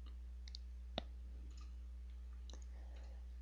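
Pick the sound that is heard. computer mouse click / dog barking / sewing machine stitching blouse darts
computer mouse click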